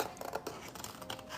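Scissors cutting paper loosely along a curved line for a bullet journal page, quiet close snips and rustle, no talking.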